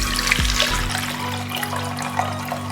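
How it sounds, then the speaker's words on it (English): Water from soaked gorontura fruit is strained into a saucepan, a steady close trickle and splash with a low hum underneath. "I'm going to strain out the water from the gorontura fruit"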